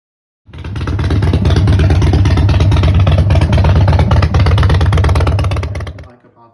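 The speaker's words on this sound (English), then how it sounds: "I changed it to the Freedom Performance exhaust, the 2-into-1 combat" A 2022 Indian Chief Bobber Dark Horse motorcycle runs loud and close through a Freedom Performance 2-into-1 exhaust, starting up and holding a deep, throbbing idle for about five seconds before cutting off.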